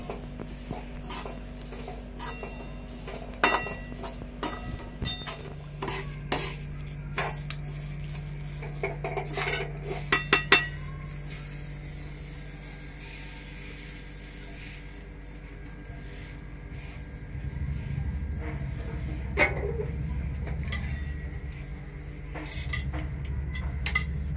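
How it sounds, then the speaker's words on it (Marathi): Sesame seeds roast over a low flame in a pan while a metal spoon stirs them, giving sharp clinks and scrapes that come in irregular bursts, then a quieter stretch of soft stirring and a low hum. "तर हे आता आपण स्लो फ्लेमवर भाजणार आहोत."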